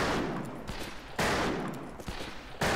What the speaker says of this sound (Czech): Ta střelba je tady hodně odlišná od stříliček, na které jste možná zvyklí.